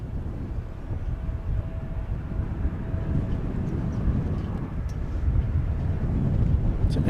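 American Eagle Embraer 170 regional jet arriving from Tampico and landing at DFW, heard as a steady low broadband roar that swells slightly over time, fairly distant and mixed with wind noise.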